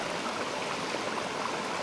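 Calm stream water flows steadily, a continuous soft rushing and trickling that stays even throughout, with no voices.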